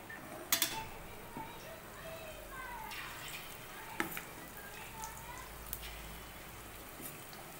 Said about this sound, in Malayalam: അപ്പോൾ നമ്മൾ ചിക്കൻ പൊരിച്ചെടുക്കാൻ വേണ്ടിയിട്ട് കുറച്ച് എണ്ണ തിളപ്പിച്ചിട്ടുണ്ട്